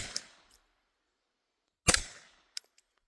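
Two suppressed Glock 19 pistol shots with a wet, full baffle stack, fired downrange: a sharp report near the start with a short decaying tail, then a second louder crack about two seconds later, followed by a faint metallic click.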